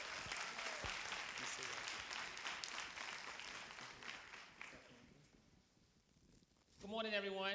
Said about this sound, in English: Let's applaud God for Mike and Ramona Woods.